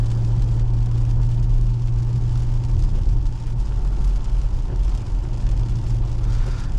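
A 2019 BMW Alpina B7 pulls hard under acceleration, its engine a steady, loud, close drone with a strong low tone that holds throughout and dips only briefly midway.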